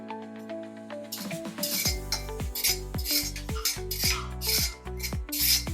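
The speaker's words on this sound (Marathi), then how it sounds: "जिरं भाजतानाच आपल्याला त्याच्यात 1 चमचाभर मेथी दाणे टाकून घ्यायचे" Cumin and fenugreek seeds dry roasting in a pan, scraped and stirred with a metal spoon in a brisk rasping rhythm over a low steady hum, close by.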